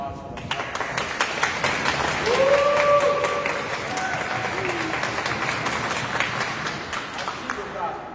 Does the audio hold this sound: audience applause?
yes